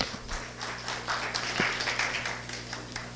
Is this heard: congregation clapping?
yes